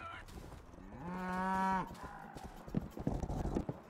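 A cow in the video game Rustler gives a long, clear moo, followed by scuffling and thudding game sounds, close and fairly loud.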